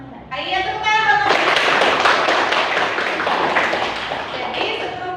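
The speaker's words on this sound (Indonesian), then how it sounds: "Iya, tepuk tangan." A classroom of students claps hands together during a lesson, a dense burst of close, lively applause from about the first second onward after a brief voiced moment at the start.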